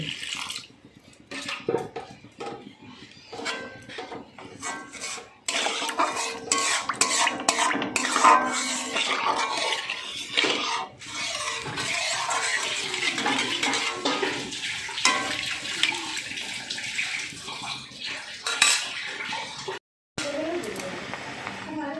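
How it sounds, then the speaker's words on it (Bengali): Water is poured into a pan of fish masala curry, splashing and sizzling amid kitchen clatter while someone speaks over the cooking sounds. "এবারে আমি পরিমাণ মতো জলটা দিয়ে দিচ্ছি"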